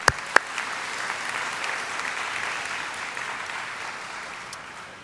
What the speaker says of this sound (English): So to all of them, I want to give them a round of applause as well.